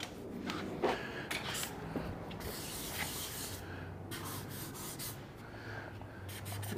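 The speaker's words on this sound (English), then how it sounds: "Let's put a little guide coat on it." Guide coat being rubbed over a small dent in a car body panel: close, dry scuffing strokes in uneven bursts, with faint hissy friction and brief pauses between passes.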